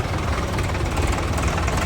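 A tractor engine idles at a farmers' road march against a land pooling scheme, a loud low steady rumble with continuous vibration and no break.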